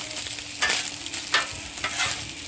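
Paella rice frying on a Blackstone griddle gives a steady hiss, broken by several scraping stirs of a spatula across the hot flat-top, close and alone.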